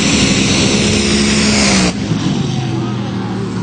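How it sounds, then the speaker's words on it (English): A Top Fuel dragster makes a drag racing run under the lights, with a deafening, harsh, full-throttle engine roar that cuts off abruptly partway through. A quieter rumble follows. "Great run out here in Top Fuel action"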